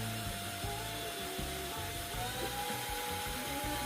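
A drill bores a hole through a cake card, a steady grinding whir with faint rhythmic ratcheting, quiet and close, no voices.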